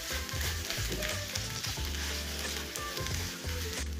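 Carrot semolina halwa cooks in a pan while a spoon stirs it, a dense sizzle under continuous scraping and stirring strokes, close and fairly loud with no talk.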